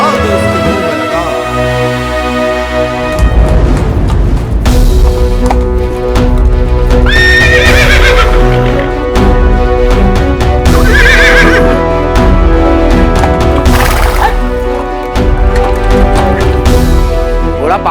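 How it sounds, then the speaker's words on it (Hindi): A horse in a Maratha-era battle drama whinnies loudly several times over a dense, dramatic orchestral score, with pounding hoofbeats running through much of the scene. "घोड़ा पागल हो गया, कोई पागल ही इसे ठीक कर पाएगा।"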